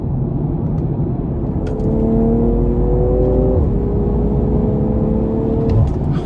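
A 2020 BMW M340i accelerates hard from inside the cabin, its engine revving in a steady rising drone that drops briefly at a gear shift and then climbs again, loud and continuous with no talk.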